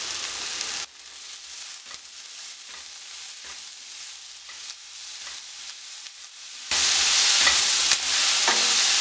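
Onion with ginger garlic paste sautéing in a pan for paneer butter masala, a loud steady sizzle with scraping stirs, the frying swelling louder toward the end, close and with no talk.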